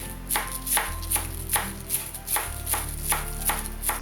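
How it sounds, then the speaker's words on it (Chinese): A knife chops scallion whites and greens on a board in a steady rhythm of about ten crisp, evenly spaced strokes, close and clear with no talk. "葱叶和葱白分开切，把葱白切丁， 葱叶切成葱花"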